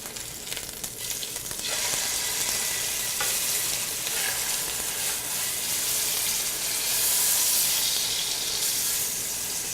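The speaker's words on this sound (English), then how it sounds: "Want to make sure that we've got all of the sides nice and seared." Pork tenderloin sears in a hot pan with a steady, loud sizzle. The frying hiss builds after the first couple of seconds and holds throughout with no talking.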